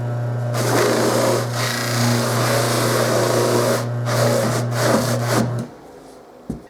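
A motor-driven buffing wheel polishes a brass herald trumpet, a steady loud hum with rubbing and scraping as the metal is pressed against it, then the motor is switched off and winds down near the end.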